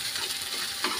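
Onion frying in a pan while being stirred, a brief burst of dense sizzling with scraping stir strokes and a louder scrape near the end.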